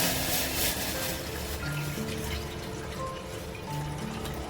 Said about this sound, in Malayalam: നമുക്ക് ഗ്യാസ് കത്തിച്ച് കഴിഞ്ഞാൽ അതിലേക്ക് ഒരു ഗ്ലാസ് വെള്ളം ഒഴിക്കാം.